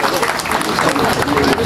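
Dense, steady applause from an audience at an Indian 78th Independence Day ceremony in Dharan, filling the whole short stretch at close range with a voice faintly underneath.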